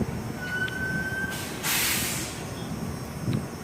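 Riding aboard a train: a constant rumble and hiss fill the carriage, with a thin squeal early on and a louder rushing burst partway through.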